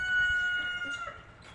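Chickens and a rooster on a poultry farm in a nature park, a rooster crowing loudly with clucking fowl around it, no voices.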